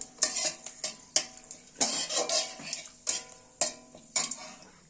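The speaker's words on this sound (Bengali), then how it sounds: "জিরেটা দেওয়ার পর আমরা কিছুক্ষণ নেড়ে চেড়ে নিলাম যাতে একটু ভালো করে বেশ ভাজা ভাজা হয়ে যায়" Cumin seeds frying in oil for chana masala while being stirred, with a steady close sizzle broken by about nine sharp scraping strokes of a spoon against the pan.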